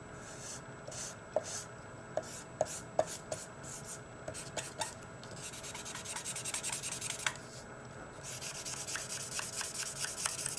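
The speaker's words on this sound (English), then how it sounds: "I'll take my colorless blender again." A colorless blender pencil rubs and scratches across paper in steady back-and-forth strokes, with occasional light taps, close up and quiet.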